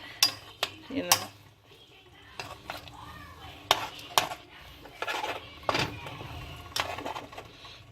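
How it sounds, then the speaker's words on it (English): Stew of beef and vegetables being gently stirred in a pot, giving soft scraping and occasional sharp clinks of a utensil against the pot, close and irregular, with quiet background noise. "Just gently stir it from the side."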